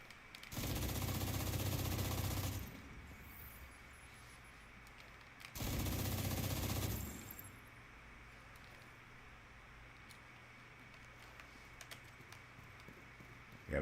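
Two bursts of rapid automatic gunfire from a video game, each lasting about two seconds, loud against a quiet background with faint clicks between them.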